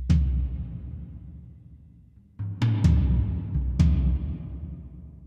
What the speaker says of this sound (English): Or bring in that crazy huge reverb.